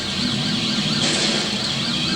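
A loud wailing police siren cycling up and down rapidly, close by and continuous, over a rumbling traffic background.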